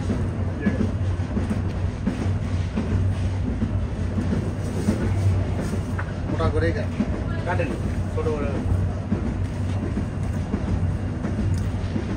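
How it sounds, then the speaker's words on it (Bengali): The Rangpur Express pulls out of Gaibandha railway station with a continuous low rumble and rhythmic wheel clatter close by, and people talk over the noise. "আমাদের ট্রেন এই মুহূর্তে গাইবান্ধা রেলওয়ে স্টেশন ছেড়ে যাচ্ছে।"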